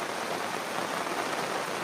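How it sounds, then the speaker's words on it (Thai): Heavy rain pours down steadily outdoors, a dense, even hiss with no break or talk, loud and close throughout the short stretch. "ฝนได้ โปรยปลายลงมาอย่างหนักน่วงครับตอนนี้"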